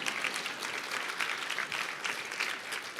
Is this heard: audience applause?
yes